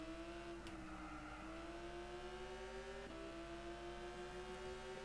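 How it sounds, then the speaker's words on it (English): A race car's engine holds a steady high whine in Gran Turismo 6 on PS3, with slight pitch shifts and a couple of brief gear-change blips, continuous and fairly quiet with no talking. "And it sounds like an F1 car."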